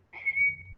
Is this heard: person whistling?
yes